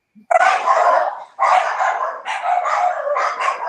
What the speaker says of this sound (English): Can you hear all my dogs barking?